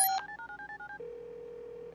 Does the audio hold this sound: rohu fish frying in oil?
no